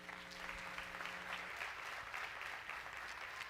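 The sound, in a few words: church congregation applauding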